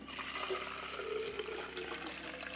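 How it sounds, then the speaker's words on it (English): Water pours steadily into a Takeya cold brew coffee maker, a continuous splashing, rushing stream that stays even and close throughout. "So I'll go ahead and put its water in here."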